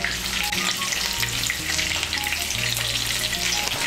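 Pieces of pointed gourd tossed with salt and turmeric fry in hot oil over medium heat, giving a steady close-up sizzle with a few soft stirring scrapes and no voices.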